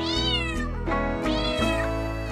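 A black cat meows again and again in long, loud, drawn-out cries, heard up close and alone with no talking.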